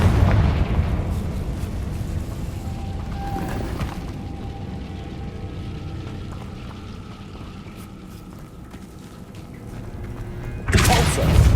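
Confringo explosion spell cast in the Hogwarts Legacy video game, a booming blast followed by a long rumbling fade under game ambience, then a second sharp burst near the end.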